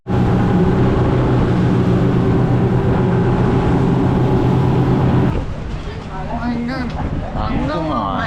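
The steady, loud drone of a boat motor near Koh Larn island runs for several seconds, then eases off as people start talking.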